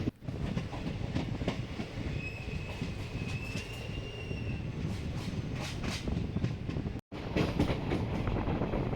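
A Nagercoil to Trivandrum passenger train rumbles along steadily with clattering wheels and a faint metallic squeal, heard from inside, continuous and fairly loud.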